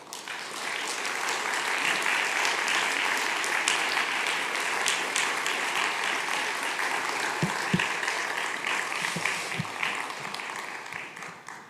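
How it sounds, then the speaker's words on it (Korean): A Baptist church congregation at a Wednesday revival service applauds to welcome a pastor. Dense, sustained clapping fills the hall for the whole stretch at an even level and then tapers slightly at the end. "여러분 크게 박수로 환영해 주시기 바랍니다"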